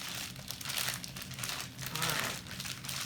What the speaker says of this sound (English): So it's easiest to knead it, which is what we're doing, kneading it in the bag.